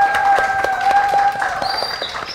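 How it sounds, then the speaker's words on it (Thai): Audience applause at a live Ichitan Healthy Drink event with YinWar, scattered clapping from a crowd mixed with tonal music and a voice, fairly loud and steady before easing off. "ขอเสียงปรบมืออีกครั้ง"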